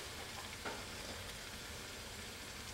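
Plantains fry in hot oil with a faint, even hiss and crackle that holds steady throughout, no voices over it.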